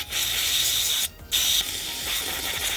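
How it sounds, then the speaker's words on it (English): Carburetor cleaner sprays from an aerosol can onto carburetor parts from a 1985 Johnson 50 HP outboard motor, a loud close hiss that cuts out briefly and then resumes, with no talking. "Basically all I'm trying to do is spray the carburetor cleaner"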